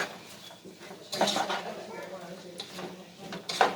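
Minced garlic mixed into chili in a pot, a few close spoon scrapes and clinks against the pot with a louder clank near the end, and a voice speaking faintly underneath.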